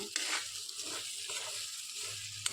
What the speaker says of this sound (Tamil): அவள் போட்டு நல்லா கலக்கி விட்ருங்க